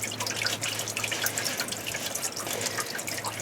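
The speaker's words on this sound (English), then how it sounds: "I'm going to let that go ahead and drain." Coolant draining from a 2018 MerCruiser Alpha One stern drive with a 4.5 L 250 HP engine, a steady trickling, dripping flow of liquid close by, continuous and fairly quiet with no talking.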